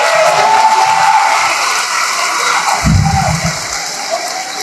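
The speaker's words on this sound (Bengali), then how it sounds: "সবার নামে আমার সাথে একটা হাততালি দেন।" Audience at a BNP political preparatory meeting in a Comilla arts academy hall applauds, a steady broadband wash of clapping filling the whole stretch at even, fairly loud level with a brief low thump near the middle.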